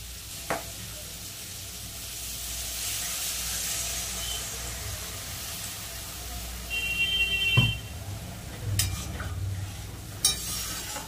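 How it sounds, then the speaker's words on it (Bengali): Water goes into a pan of well-fried spice paste for a thin fish curry, bringing a continuous soft sizzle and steamy hiss with a few sharp utensil clicks and stirring scrapes near the end. "এবার জল দিয়ে দেবো"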